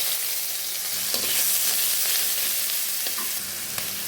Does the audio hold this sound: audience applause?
no